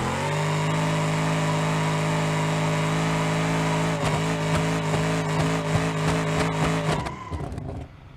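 A car engine in BeamNG.Drive screams at over-rev, holding a high steady drone for several seconds before stuttering against the limiter, then cutting off and dropping away.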